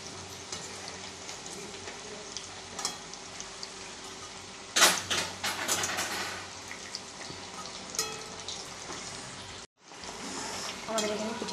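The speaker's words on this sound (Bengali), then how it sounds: "আমাদের এখানে পিঠে ভাজা হয়ে গেছে" Moong dal puli pithe, sweet dumplings filled with kheer, crackle and sizzle in hot oil, a steady close frying hiss with a few louder bursts of spattering midway and a brief drop out near the end.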